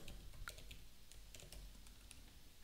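Faint, quick keystrokes on a computer keyboard as a programmer enters code for a Next.js app, irregular light clicks over a low background hum.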